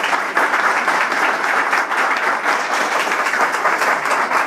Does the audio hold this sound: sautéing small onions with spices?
no